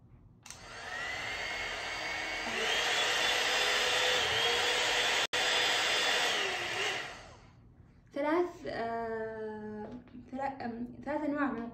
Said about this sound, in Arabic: طبعا الاستشوار فيه 3 مستويات حرارة